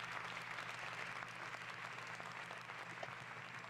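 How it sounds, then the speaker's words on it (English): An audience claps at the end of the video game Cabaret, dense continuous applause at a steady, moderate level with no voices over it. "Looks like the audience is clapping."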